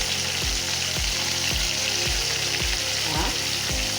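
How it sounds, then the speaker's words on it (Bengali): Dhaba-style chicken frying with salt in a pan: a steady loud sizzle throughout, with a spatula stirring in regular strokes about twice a second. "হলুদ গুঁড়ো দিয়ে চিকেনটা একটু ভাজবো।"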